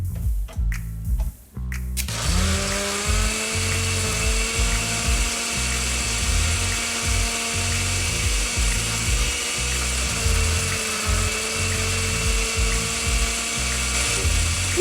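After a couple of seconds of choppy noise, a motor starts up and runs continuously with a steady whirring hum and rhythmic mechanical grinding.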